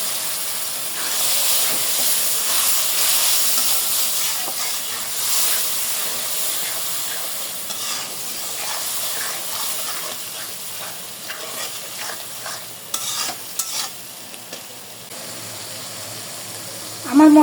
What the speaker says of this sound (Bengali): মশলাটা একটু কষায় নিতে হবে।